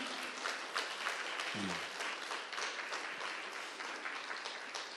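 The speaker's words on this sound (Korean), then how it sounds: "우리 박수로 표현을 해볼까요?" Steady applause from a church congregation during a Sunday sermon fills the room, continuous and even, with a brief low voice sound partway through.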